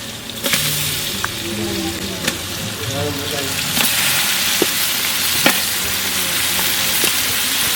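Washed mutton, cleaned with turmeric, sizzles in a pot for biryani as a steady close frying hiss, with occasional clinks of a spoon against the pot.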